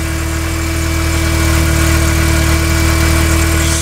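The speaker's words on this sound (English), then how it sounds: "That's the air pump. You hear that thing running." A secondary air pump whirs steadily on a VW Mk IV 1.8T engine, a constant close drone with a steady tone layered over the idling motor, no voices.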